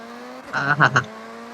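A BMW M2 in the Forza video game, its engine giving a short revving burst with two or three quick surges over a steady drone, no talking.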